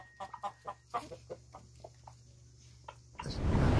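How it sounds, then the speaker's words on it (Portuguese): A young rooster clucks to call the hens, a run of short low clucks in quick bursts, fairly close over a steady low hum, before a rush of louder noise at the end. "Chamando as galinhas já, rapaz."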